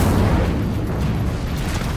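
Incendio fire spell cast in the Hogwarts Legacy game, a dense, roaring, low-heavy burst of flame that rumbles steadily and loudly throughout, like a sustained fiery explosion.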